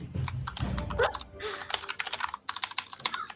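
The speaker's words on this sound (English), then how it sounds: "Everyone in chat is applauding whoever's mechanical switch keyboard we can hear." Rapid clicking keystrokes from a mechanical keyboard, close and crisp, in irregular bursts with brief pauses, no voices.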